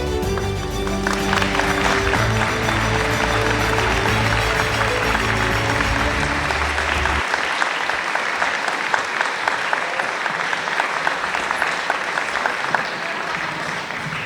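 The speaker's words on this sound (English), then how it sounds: "please stand so we can offer you a round of applause for your service, leadership, and their heart" Loud audience applause at a teacher of the year breakfast in Ocean County, honoring the year's teachers; steady dense clapping that continues throughout, over music fading out in the first half.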